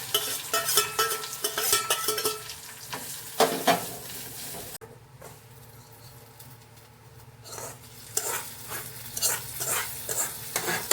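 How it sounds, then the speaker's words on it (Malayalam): Grated coconut roasts in a pan for erissery, stirred with irregular scraping strokes over a soft frying sizzle, close and fairly loud, easing briefly midway before the brisk stirring resumes. "കുറച്ച് തേങ്ങ വറുത്തെടുക്കാം."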